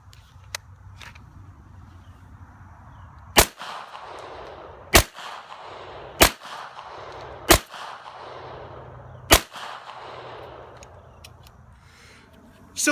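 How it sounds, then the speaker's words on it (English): Five evenly spaced, loud gunshots from a Springfield XD Mod 2 service pistol fired at an outdoor range, each a sharp crack with a brief ringing tail, separated by pauses of about a second and a half. "What we're going to do is shoot 5 rounds on the head of Mr."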